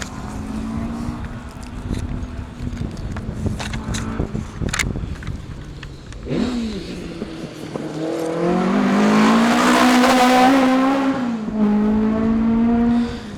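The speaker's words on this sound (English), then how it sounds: "That's Keith Turner and Tracy Woods 2-litre historic spec Escort Mark II" A 2-litre historic-spec Ford Escort Mark II rally car on a stage rally approaches from the distance, its engine note rising and revving loudly as it passes close by, then fading away; a voice talks briefly early on.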